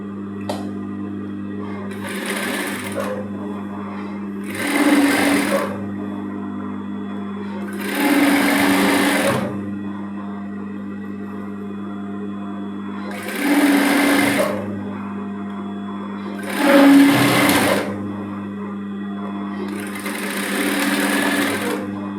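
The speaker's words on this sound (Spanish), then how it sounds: "Cosemos la pinza." A domestic sewing machine stitches a dart on a woman's blouse in short bursts of a few seconds each, six runs separated by pauses, over a steady low electrical hum.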